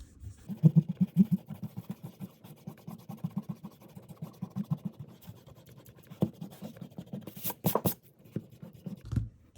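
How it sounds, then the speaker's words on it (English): A pencil drawing being erased with an eraser, quick soft rhythmic scrubbing strokes close up in bursts, ending with a few louder brushing sweeps and a thump. "time to erase"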